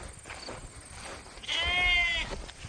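A single loud, wavering bleat rises from sheep or lambs penned on weaning day with ewes nearby, preceded by quieter rustling and farm noise.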